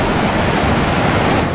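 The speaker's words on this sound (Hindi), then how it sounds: "मैं खड़ा हूं शिवनाथ नदी में और रौद्र रूप ले चुकी है शिवनाथ नदी" The flooded Shivnath river near Bhilai, Durg, rushes in a loud, continuous roar of churning water, a dense unbroken wash of noise heard close up with no pauses.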